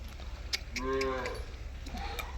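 A Holstein Friesian dairy cow lets out a single drawn-out moo that rises and falls over about half a second, moderately close, over a steady low background hum with no talk.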